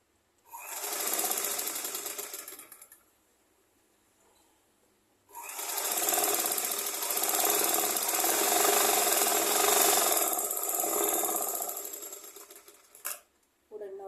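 A sewing machine stitching umbrella cover fabric, a fast close whirring run of about two seconds, a pause, then a longer run of about seven seconds ending in a few short bursts.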